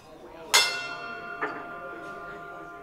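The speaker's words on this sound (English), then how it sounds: "I love hitting that bell." A bell struck twice at a Rotary Club meeting, a bright ringing hit followed by a softer second strike about a second later, each leaving a sustained metallic tone that decays over the murmur of a room.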